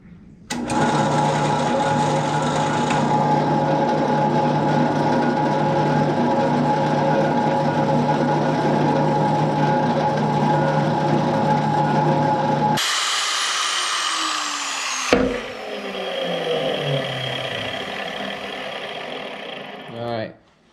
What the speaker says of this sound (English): I can drill a hole in the center of it for my shaft to go through